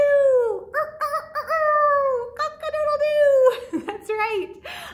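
Rooster crowing cock-a-doodle-doo on a farm, a loud, close harmonic call with several rising and falling sweeps over about five seconds; it may be a human voice imitating the bird.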